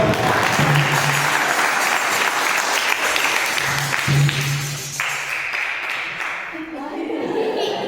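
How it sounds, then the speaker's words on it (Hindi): Audience clapping at a Jain religious discourse by a monk, a broad sustained wash of applause that thins toward the end, with voices heard over it. "ताली को बजाते हैं जिनके हाथ में दम"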